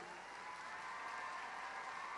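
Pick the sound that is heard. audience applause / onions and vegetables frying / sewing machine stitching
audience applause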